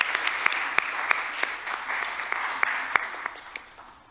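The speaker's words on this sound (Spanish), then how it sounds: "Un aplauso para ella, por favor." Scattered applause for a guest speaker at a forum on women and labor reform, a thin audience clapping with distinct individual claps standing out, fairly close and tapering slightly toward the end.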